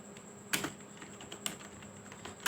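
Fingers type on a computer keyboard in a few sharp, irregular key clicks and taps against a quiet background hiss, close by with no talking.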